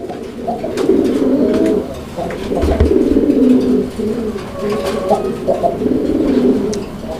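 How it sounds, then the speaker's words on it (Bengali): A male Gola pigeon in a loft coos steadily at close range, its low rolling calls repeating in a continuous series with no voices over them. "নটটার ডাকটা আগে দেখেন"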